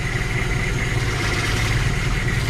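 A car engine idles steadily during a compression test, a constant low rumble with a faint mechanical hum, close by and uninterrupted, with no talk.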